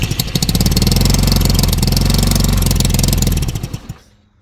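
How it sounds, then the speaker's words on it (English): A Motobravo Roma 150cc scooter engine with a loose exhaust port fires up and runs with a loud, rapid, steady put-put close by for about four seconds, then cuts out abruptly. "I'll try to start it, but I bet it's gonna be loud because that exhaust port thing there"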